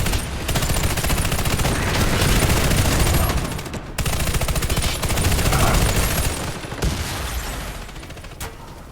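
Sustained automatic turret fire in the shooter game Warface, loud dense bursts of rapid shots with booming low end, a brief break near four seconds and another shorter gap near seven, no voices.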